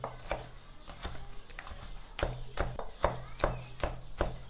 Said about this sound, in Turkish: Köz soğanların tadı her tarafa eşit bir şekilde dağılsın diye bunları ince parçalara ayırıyorum